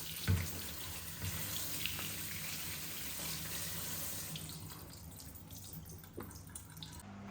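Mushrooms are rinsed under a running kitchen tap, with a steady wash of water hissing into the sink throughout and a few brief splashes and drips near the end.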